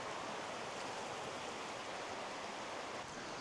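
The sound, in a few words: river or creek flowing near a campsite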